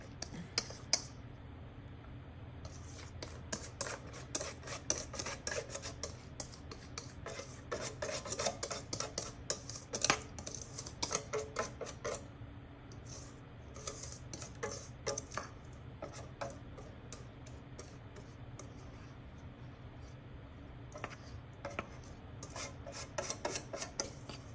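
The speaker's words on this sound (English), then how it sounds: "Just gonna scrape it properly." Scraping and rasping while making Jamaican toto, a coconut cake, comes as dense bursts of short scratchy strokes in uneven runs, fairly close and steady over a low background hum, with pauses between passes.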